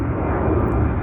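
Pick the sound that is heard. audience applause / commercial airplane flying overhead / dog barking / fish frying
commercial airplane flying overhead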